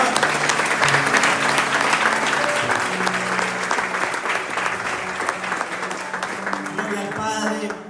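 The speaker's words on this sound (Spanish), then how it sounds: "Regalen una ofrenda de palmas al Señor" A congregation at a Catholic spirit-life retreat gives sustained applause offered to the Lord, a loud, dense and continuous roar of many hands that eases slightly toward the end, with voices and music mixed in beneath it.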